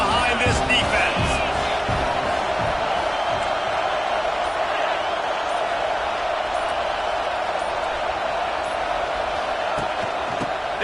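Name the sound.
football crowd cheering for the defense on third down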